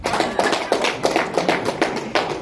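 Sparse clapping from a small group of seated adults during a motivational talk, about seven or eight distinct claps in a loose, quick rhythm, fairly close and moderately loud.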